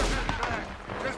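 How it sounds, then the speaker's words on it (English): Gunfire from a shot in the western video game Red Dead Redemption 2: a couple of sharp, close blasts packed into a second, with game ambience and some voice underneath. "Just I just shot him!"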